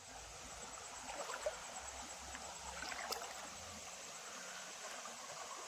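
Stream water flows over stones at night during crab catching, a faint continuous gurgle and trickle with a few small splashes, quiet and close, no voices.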